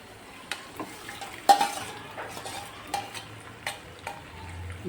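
Bottle gourd is stirred into tomato gravy in a pan, giving soft scraping clinks and light taps at irregular intervals over a faint sizzle.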